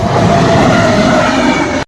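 A train rumbles past close by at a level crossing, a steady loud roar of wheels and carriages running continuously before cutting off abruptly at the end.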